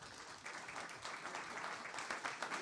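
Conference audience applauding an event organizer, steady dense clapping filling the room at moderate level for a few seconds with no talk.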